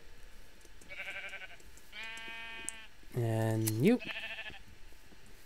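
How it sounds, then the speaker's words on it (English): Several blocky, synthetic sheep bleats from a Minecraft farm, each a short wavering call, with one louder, falling bleat near the end, while a person talks briefly over them. "The sheep are starting to reappear."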